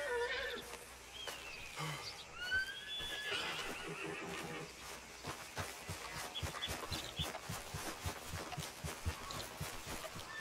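Horse neighing in the Red Dead Redemption 2 video game, a whinny near the start followed by rhythmic hoof thuds and ambient outdoor game sound, fairly faint and alone.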